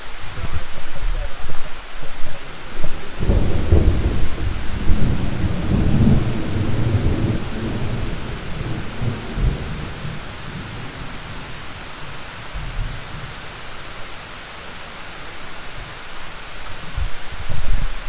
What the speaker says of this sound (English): Now it's just out here for the thunder.